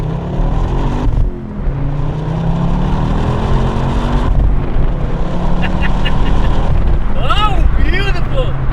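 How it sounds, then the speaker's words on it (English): A 2009 Ford Focus RS accelerates at full throttle, heard from inside with the window open: a loud, rising engine roar with wind and road rumble, and a brief tire or whistle-like sound near the end. "I have to accelerate one time, just full window open"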